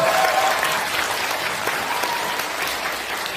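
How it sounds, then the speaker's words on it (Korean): A crowd at a Democratic Party political forum in Seoul bursts into sustained applause, a thick, continuous wash of clapping that stays loud and even for several seconds, slightly stronger at the start. "큰 박수 한번 해주십시오."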